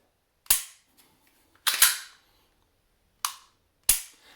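Four sharp, loud snapping clicks of a Turkish-made pistol's trigger pull and reset, in pairs and singles, each cracking out crisply against silence.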